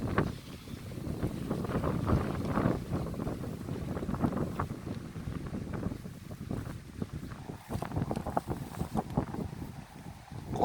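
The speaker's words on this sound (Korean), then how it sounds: "바람이 많이 불고 있습니다 지금." Strong typhoon wind blowing outdoors through a hydrangea garden in Korea, a continuous loud roaring rush with buffeting gusts against the microphone throughout.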